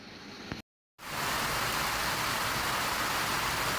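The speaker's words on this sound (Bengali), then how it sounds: "অবশেষে সেই কাঙ্ক্ষিত বৃষ্টি আসলো আজকে দুপুরবেলা।" Afternoon rain pours down in a steady, hissing wash after a brief moment of quiet, continuous and fairly loud with no voices.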